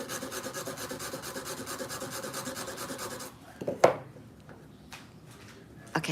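A gel nail is filed with a 100 grit file in a nail salon setting, giving a steady rhythmic rasping for a few seconds that stops abruptly, followed by quieter handling taps and a couple of scrapes.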